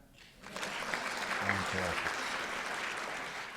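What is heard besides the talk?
audience clapping hands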